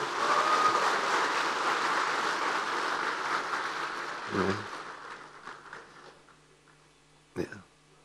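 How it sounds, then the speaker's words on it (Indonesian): Applause from a large hall audience of party cadres at the PKS national congress, dense and steady for about four seconds before thinning into scattered claps and crowd murmur, with a few sharp knocks near the end. "Tepuk tangan semua."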